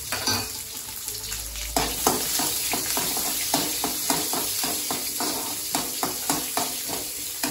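Onions frying in a pan for a moringa flower stir-fry, a continuous close sizzle broken by regular scraping stir strokes and light pan knocks, with no talk.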